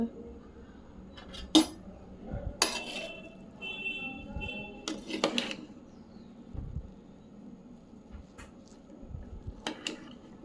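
Spoon stirring sweet corn rice in a metal pot, with scattered clinks and scrapes of utensil against the pot between quieter stretches.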